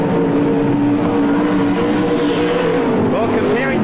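Sprintcar engines roar loudly on a speedway track at the 1983 Newcastle Motordrome Sprintcar Masters, a dense, continuous engine drone with a rising whine near the end, under a commentator's voice.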